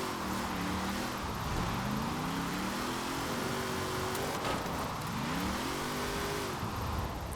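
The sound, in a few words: Bugatti car driving in Forza Horizon 4 video game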